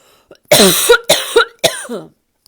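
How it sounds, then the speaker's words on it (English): A person coughs three times in quick succession, close and loud, with a brief breath before the first. "So I'm going to pause here and cough and get some water."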